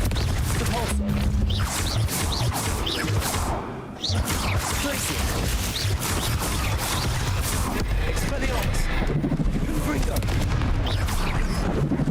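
Confringo explosion spell cast in a Harry Potter video game: dense, loud booming blasts and crashes rolling continuously over a noisy battle soundscape, with a brief dip partway through and voices mixed in.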